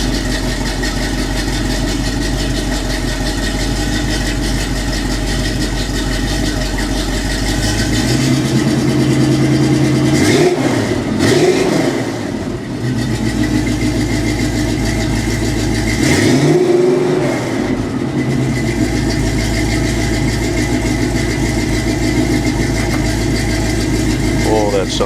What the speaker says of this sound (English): That's deeper than the other mufflers.